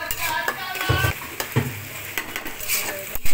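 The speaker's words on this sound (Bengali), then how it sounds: "একটু ভাজা করে নিলাম যাতে কাঁচা গন্ধটা বের হয়ে যায়" Ginger and garlic paste sizzles with onions in hot oil while being stirred for a restaurant-style brain masala curry, a close crackling fry punctuated by scraping spoon strokes against the pan.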